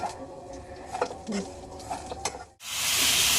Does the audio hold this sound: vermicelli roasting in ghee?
yes